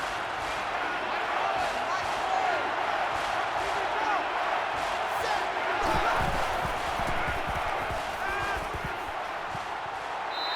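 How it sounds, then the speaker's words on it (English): Stadium crowd noise in an NCAA 14 college football game, Ohio State at Michigan: a steady, dense roar of many voices with scattered shouts and thuds, continuous throughout. "they're definitely using that crowd noise to their advantage here"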